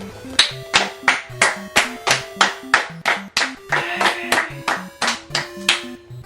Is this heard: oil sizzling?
no